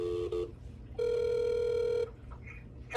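Telephone ringback tone heard through a handset during an outgoing call: a short double burst followed by one long steady electronic ring lasting about a second, fairly loud, with a faint voice in the background.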